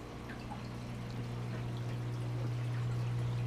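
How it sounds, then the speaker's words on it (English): Water from a side-by-side 1-inch aquarium overflow drains down through the wall into a 55-gallon sump, giving a steady, close pouring rush over a constant low hum, unbroken throughout. "Side by side 1-inch overflow, which dumps all the way down here, makes that turn, goes through the wall right into my 55-gallon sump"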